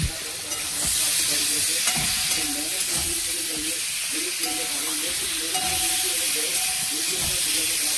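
Chopped tomatoes fry in a pan with vegetables, a loud steady sizzle and hiss close by, with stirring scrapes, while someone talks over the cooking throughout.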